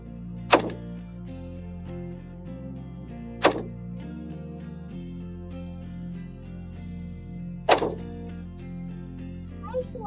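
A Zastava ZPAP M77, a Serbian AK-pattern rifle chambered in .308, fires spaced shots outdoors, three sharp loud cracks about three to four seconds apart, with a droning tone underneath between them.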